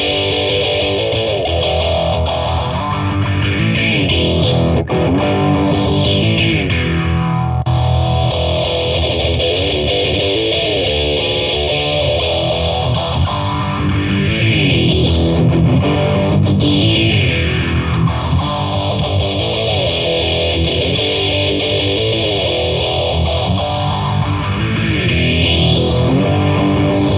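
Distorted electric guitar played through a CaLine Lucky 7 seven-mode modulation pedal, with a sweeping phaser/flanger-like whoosh rising and falling in slow repeating cycles under steady loud chords, no talking.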